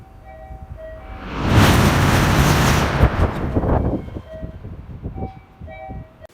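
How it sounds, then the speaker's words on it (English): A train roars past in a fast sound effect, a rush of broadband noise swelling quickly from a quieter approach, peaking loud and then fading, with faint horn-like tones at the edges. "That train was going fast, y'all."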